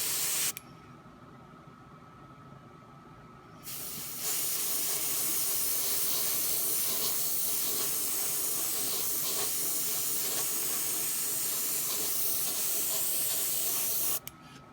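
An aerosol can sprays primer base coat onto the tracks of a Tamiya 1/35 Panzer III Ausf N plastic model, a steady close hiss that sputters briefly, then runs loud and continuous until it cuts off.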